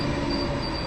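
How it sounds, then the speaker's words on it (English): A train pulling into a station rumbles loudly and close, with a thin high wheel squeal running over the steady rolling noise. "Well, there is my train."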